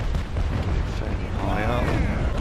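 Ship cannons fire chain shot in the Naval Action Legends naval combat game, a deep booming blast rolling out under continuous background rumble, with a voice talking over it.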